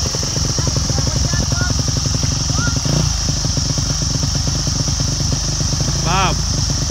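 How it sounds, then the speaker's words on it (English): A Yamaha YZ250F dirt bike engine runs close by with a rough, rapid mid-pitched throb that rises and settles as it is revved during a first-time start, while people talk over it. "rev it heaps but let it out real slow"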